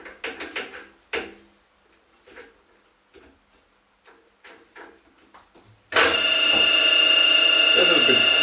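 Optimum MB4 milling machine running at 1600 RPM: after several seconds of intermittent talk, the machine starts abruptly and holds a loud, steady whine with a sharp high tone for the remaining few seconds.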